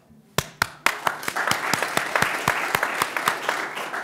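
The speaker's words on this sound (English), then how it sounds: "We encourage you to cheer on the contestants" Audience at a university business prize competition applauding and clapping, building from a few sharp claps into sustained, fairly close applause with distinct loud claps standing out throughout.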